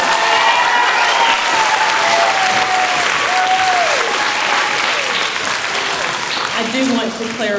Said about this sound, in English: So let's give Miss Morgan a round of applause.